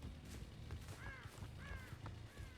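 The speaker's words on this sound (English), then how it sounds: "I heard more crows." Crows cawing in the horror game Dead by Daylight, three or four harsh calls spaced over a couple of seconds, heard faintly over a low steady game ambience.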